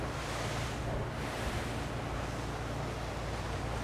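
A Solaris Power 44 Open motor boat cruising at 17 knots, heard as a steady, loud rush of hull spray, water and wind with a low engine drone beneath, continuous throughout.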